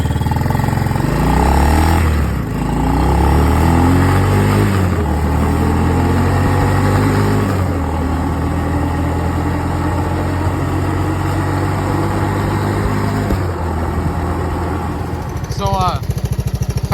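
A Honda ATC185s three-wheeler's small engine runs loud and close, revving in uneven bursts and then settling toward a rough idle, before it cuts off near the end.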